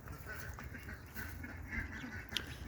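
Cayuga and Muscovy ducks in a garden pen give off faint, low quacks and murmurs under steady outdoor background noise, with a brief sharper call near the end.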